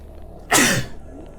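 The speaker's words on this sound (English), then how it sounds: "You ever sneeze so hard like your body hurts?" One loud, sudden human sneeze, close and forceful, with a sharp burst that trails off quickly, rising out of quiet room tone.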